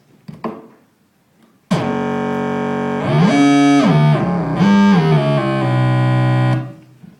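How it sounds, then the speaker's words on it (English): Distorted kick drum looped into a buzzy synthetic bass tone, first a couple of short hits, then a loud sustained note that gets repitched up and down several times before it cuts off. "If you loop the kick drum when it's distorted, when it's forming kind of like a pseudo sine square wave, you get kind of like a bass tone."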